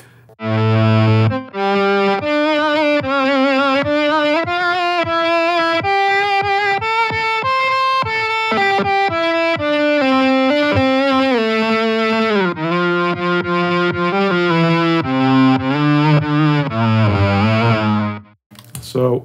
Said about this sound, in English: So you can go right round to the octave fuzz, the pitch shift, and a synth string, which we'll just do that one because it's absolutely crazy